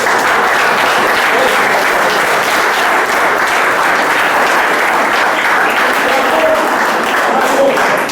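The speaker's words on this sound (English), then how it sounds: "I want to really give a hand clap to the parents." Audience applause for parents at a community gathering about Portsmouth, steady dense clapping that carries on for the whole stretch without a break, loud and close, with no voices rising above it.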